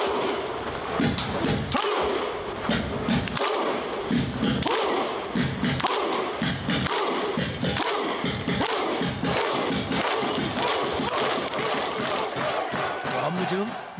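Iceland football fans doing the Viking thunder clap chant: a huge stadium crowd booming out rhythmic unison claps and deep shouted grunts, repeating steadily and loudly over a crowd roar.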